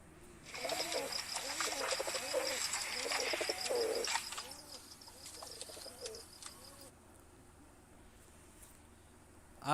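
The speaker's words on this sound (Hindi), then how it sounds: "चलिए मैं आपको इन कबूतर की थोड़ी सी आवाज़ सुनवाता हूँ" Pigeons coo steadily in repeated soft, throaty rolling calls, close and fairly loud over a constant background hiss, with the cooing thinning out near the end.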